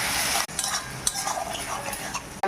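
Ground spices with chilli, coriander and cumin powder stir-fried in a pan with a little water for a pointed gourd and prawn dish, a steady close sizzle with scraping strokes and a brief break partway through.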